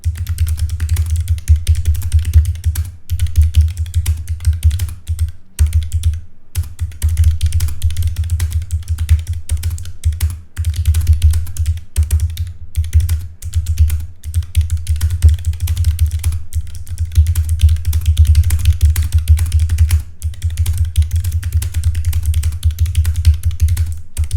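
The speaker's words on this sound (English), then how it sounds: "I have my mechanical keyboard right here. It's the Keychron K3. It has a blue switches" Steady rapid typing on a Keychron K3 mechanical keyboard with blue switches, loud close clicking keystrokes in a continuous stream with brief pauses, no talk.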